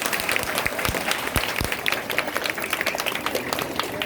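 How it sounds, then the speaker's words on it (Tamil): An audience at an Independence Day school event breaks into strong, sustained applause, dense clapping filling the space with sharp claps standing out. "கைத்தட்டலாம், பலத்த கைத்தட்டல்."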